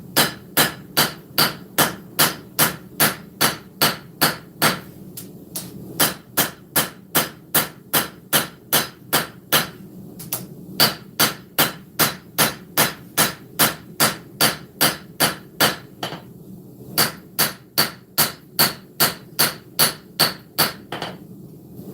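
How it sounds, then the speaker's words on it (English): Flat side of a rounding hammer striking a hot knife blade on an anvil while forging straight fullers, a long run of sharp, evenly spaced ringing blows at roughly two per second, loud and close, with brief pauses. "So flat side of the rounding hammer."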